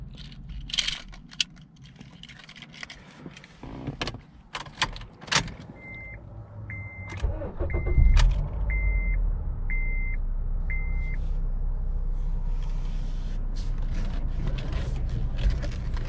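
A 2012 Acura TSX Special Edition with 189K miles gets ready for a test drive: keys jangle and doors click, six evenly spaced chimes sound, then the engine starts and settles into a steady low idle.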